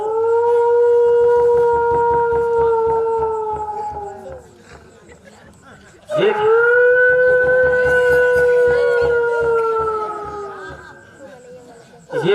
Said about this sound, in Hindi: कुत्ते तो रो ही रहे हैं, साथ साथ उनके बच्चे यानी पिल्ले भी साले रो रहे हैं